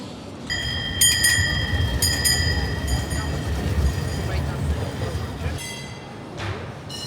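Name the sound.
tram running along the street in Istanbul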